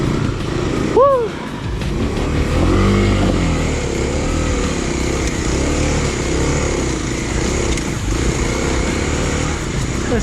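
A KLX 250 dual sport motorcycle rides a single track trail, its engine droning steadily close by with uneven throttle surges and wind noise, and a brief voice whoops near the start.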